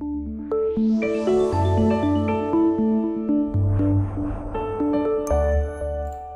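A short bright synth jingle, a radio station audio logo, plays, layered chimes and tones rising with a swell of shimmering noise, then settling into a final sustained chord.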